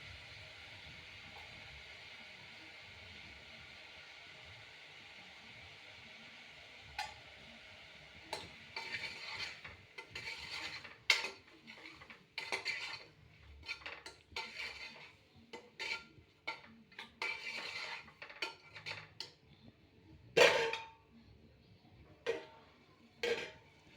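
Tomato and onion frying in a pan, a soft steady sizzle under repeated scraping and clinking of a spoon stirring against the pan, the stirring louder and irregular in the second half.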